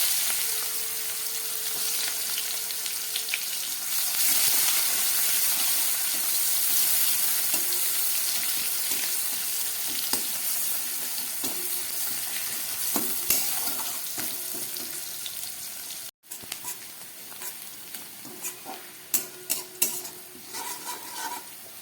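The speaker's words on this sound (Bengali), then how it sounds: "এবার এই তেলের মধ্যে আমি দিয়ে দিচ্ছি একটু কালো জিরে ফোড়ন, আর দিয়ে দিচ্ছি কেটে রাখা পেঁয়াজ।" Onion and nigella seeds fry in mustard oil while being stirred for a tangra fish curry: a steady, moderate sizzle with scattered spoon scrapes and clinks, and no talking.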